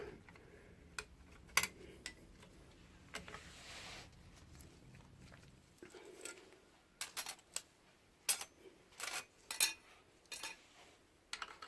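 Metal clutch plates from a Suzuki TL1000S being drawn out with a magnet: scattered light metallic clinks and ticks, sparse at first and then clustered, close and fairly quiet, with no speech.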